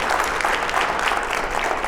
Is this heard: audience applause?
yes